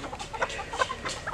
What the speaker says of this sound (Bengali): এগুলো কিন্তু সব দেশি মুরগি।